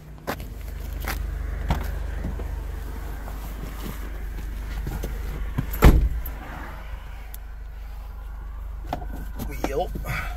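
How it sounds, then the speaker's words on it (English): Person getting back into a car after mud on a shoe, with jangling keys and rustling, a sharp door thump near the middle, over a low steady rumble; a voice talks intermittently. "why don't we hop back in the car?"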